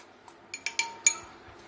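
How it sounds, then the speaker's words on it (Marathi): A bowl set aside during vegetable biryani prep, with a few light, close clinks of dishes and cutlery clustered together in a quiet kitchen. "हे बाउल बाजूला ठेवते."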